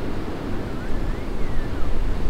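Strong wind roars steadily against a tent hammock at a windy 0°F winter campsite, a broad rushing gust noise that swells slightly louder toward the end, with no voices.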